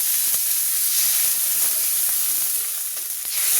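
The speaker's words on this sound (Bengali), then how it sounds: "একটু পানি দিচ্ছি আগে" A splash of water added to softened fried onions in a hot pan sets off a loud, steady sizzling hiss with faint stirring clicks, close up and alone.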